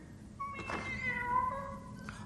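A cartoon cat gives a drawn-out meow, then a shorter second one, faint and alone over soft background noise.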